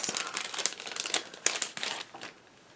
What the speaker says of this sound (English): now I will open these stickers